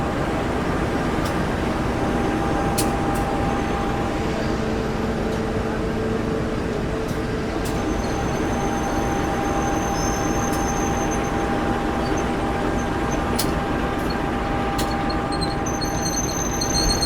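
Mutiara Timur passenger train, economy New Generation and executive mild steel coaches, arriving at an Indonesian station: a steady loud rumble of wheels and carriages with tonal hum and occasional sharp squeals, continuous throughout.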